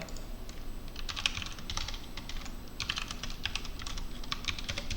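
Steady computer keyboard typing while code is being written, quick irregular key clicks in close bursts, fairly quiet and with no talking.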